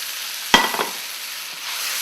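Chopped tomatoes tipped into a pan of fried spices for a Kerala fish curry, giving one sharp hiss as they land, then a short spell of softer sizzle and stirring over a steady broadband background.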